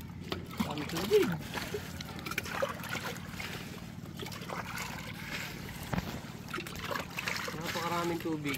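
Water sloshes and trickles as a scoop bails out a small boat, with irregular soft splashes at close range while voices talk over it.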